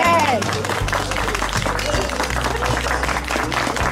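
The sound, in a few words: wedding guests applauding the newlyweds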